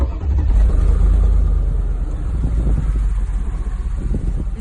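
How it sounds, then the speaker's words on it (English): A Mercedes supercharged V8 of 650 horsepower starts up and revs, a loud, close, deep engine rumble that holds steady and swells with throttle. "This is a supercharged V8 with 650 horsepower."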